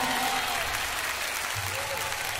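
Audience applause at a live concert in Japan, a steady dense wash of clapping from a crowd greeting a band member, with faint talk underneath.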